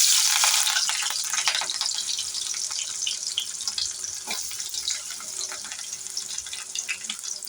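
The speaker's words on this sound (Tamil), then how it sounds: "பச்சை மிளகாய் வெங்காயம் போட்டு வதக்கிக்கலாம்." Green chillies and onion sautéing in a pan for a gongura keerai dish, a steady close hiss and crackle of frying throughout, with a few soft stirring knocks and no voices.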